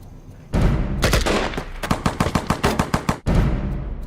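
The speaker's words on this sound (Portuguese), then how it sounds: "Mas o mais importante é que não tenham medo dos ruídos dos tiros." Loud gunshots in a film trailer ring out in a quick irregular volley, sharp cracks following one another rapidly, framed by deep rumbling booms before and after.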